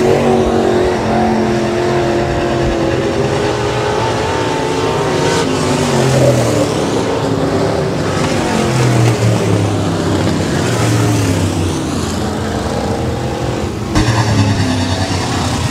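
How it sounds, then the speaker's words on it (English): B-Modified race cars run a heat race at Rapid Speedway, a dirt track, producing a loud, continuous roar of racing engines whose pitch rises and falls as cars accelerate and pass. "Coming off of four, your heat race winner, the 91 of Tyler Johnson"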